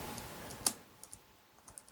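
Typing on a HooToo HT-WK01 Bluetooth wireless backlit keyboard gives a few sparse, light key clicks, one sharper tap and then softer scattered presses, close but quiet against a faint background hiss.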